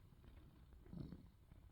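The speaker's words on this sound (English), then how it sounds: "Are you purring?" Low, steady purring from a cat lying on a bed, a soft continuous rumble that swells slightly midway, close and quiet with no voices over it.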